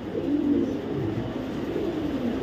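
A loft of pigeons gives off continuous soft, low cooing, several birds overlapping in a gentle rolling murmur, near and even in loudness, with no talk.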